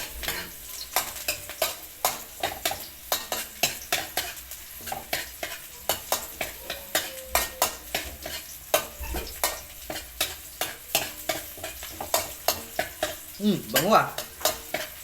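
Onion and ginger sautéing in a pan for duck dinakdakan, with steady rhythmic scraping strokes over a low sizzle throughout and a few brief spoken words.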